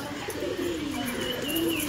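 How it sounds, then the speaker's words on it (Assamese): Domestic pigeons kept at home coo steadily and continuously, up close, in low murmuring phrases over a busy background hum. "এইবোৰ পাৰ মৰম নামিয়া এইটো আমাৰ মৰম বুলি মাতো"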